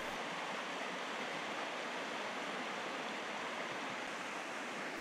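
Deep Creek, a mountain trout stream in the Great Smoky Mountains of North Carolina, rushing steadily over rocks with a dense, unbroken roar of flowing water, close and constant throughout.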